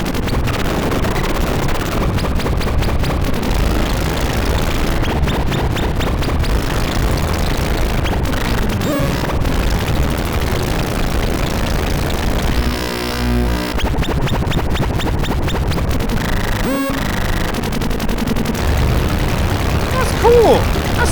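An Arturia MatrixBrute analog synthesizer pours out loud, continuous harsh noise that an LFO sweeps into rhythmic stuttering and roaring textures, with occasional crackling bursts.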